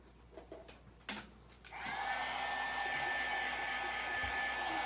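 After a few soft knocks and handling sounds, a hair dryer drying an epoxy craft switches on and blows in a steady, close whooshing hum.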